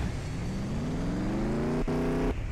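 Car engine in the Roblox game Mad City, a steady droning hum with rising harmonic pitch as the vehicle accelerates, briefly cutting out twice near the end; no speech.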